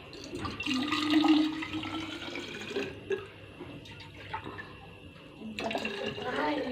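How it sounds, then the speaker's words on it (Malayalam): Hot water splashes and gurgles into a bottle in close, uneven bursts, pausing midway before flowing again, with a voice speaking at times. "വെള്ളം കുപ്പിയിൽ വെള്ളം നിറയ്ക്കണം കേട്ടോ"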